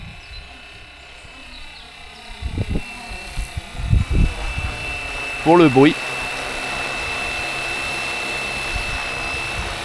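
A steady, high-pitched whine of a small Fly-Wing Bell 206 RC model helicopter flying overhead hums throughout, with someone speaking briefly and a wavering engine swell near the middle.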